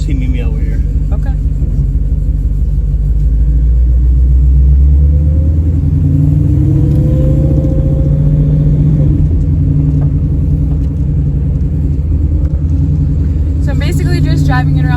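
Supercharged Ford Mustang with a built engine driving around a parking lot, its loud low rumble continuous and close, rising and falling gently through shifts, with people talking over it.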